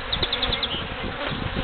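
Angry bees buzz steadily around a hive, a close, continuous droning hum with a few sharper passes, heard without speech.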